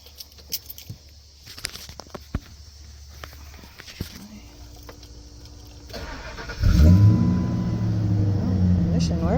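A 2002 Ford F250 Lariat engine cranks and catches after a repair, then settles into a loud steady idle close by; light clicks and handling noises come first, and someone speaks briefly.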